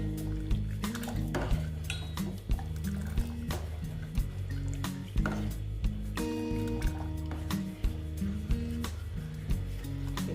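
Bread custard mixture bubbles and plops in a steel pot on the stove, with soft wet popping and dripping sounds under background music.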